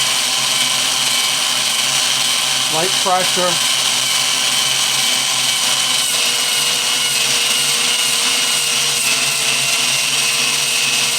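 A power drill fitted with a 50 grit disc grinds steadily inside Ford E7 460 cylinder heads during budget porting work. The harsh whirring runs loud and continuous throughout, with a brief speaking voice over it.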